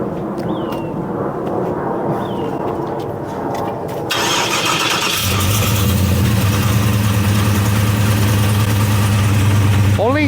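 A car engine cranks and catches about five seconds in, then settles into a steady low idle on a dyno, with people talking over it.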